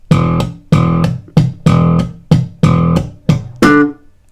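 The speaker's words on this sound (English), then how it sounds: "So beats 1, 2 and 3 sound like this." Slap bass riff, beats one to three, played as eight punchy thumbed and popped notes with a tight, percussive rhythm. It is loud and close, with no talking and no backing.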